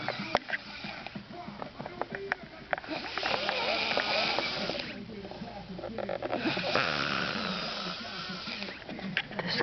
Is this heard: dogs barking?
no